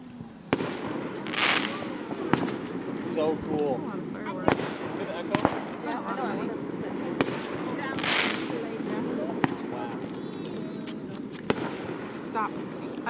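Independence Day fireworks go off outdoors in a series of sharp booms, each followed by a long rolling echo, while people chatter in between.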